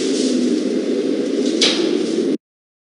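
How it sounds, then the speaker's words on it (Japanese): A Mitsubishi GPS-III elevator door slides shut with a steady, loud whooshing rumble, a faint knock near the end, then stops abruptly into silence. "ドアが閉まります。"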